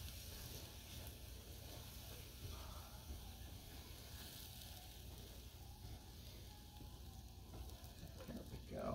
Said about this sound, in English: I can smell the cabbage and the onion cooking through there